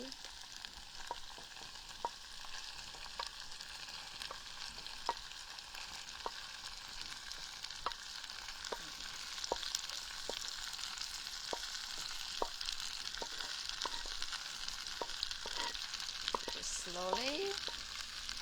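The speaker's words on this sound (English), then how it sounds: "So give it another nice stir." Tofu and wood ear mushrooms fry in a clay pot with a steady, close sizzle throughout, punctuated by regular clicks and scrapes of stirring; a brief word is spoken near the end.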